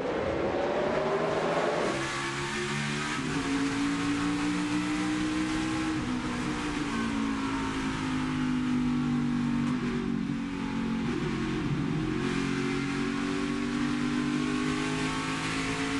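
A NASCAR race car engine roars at full throttle from onboard Denny Hamlin's car on a restart at New Hampshire, a loud steady drone with the pitch rising and shifting through gears, cars running close around it.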